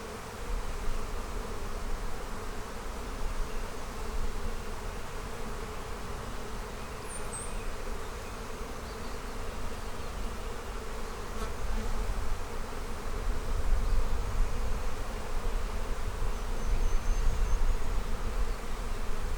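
Honey bees buzz at an opened hive box packed with honey and nectar, a dense, continuous drone of many wings, close and steady throughout with no talking.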